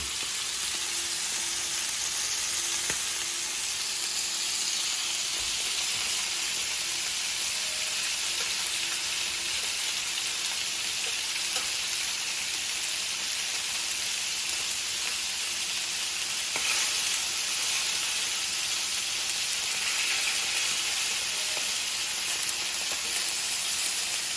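Scallops sizzle in butter in a pan, giving a steady, dense crackling hiss that holds evenly for the whole stretch. Close and continuous, with no voices.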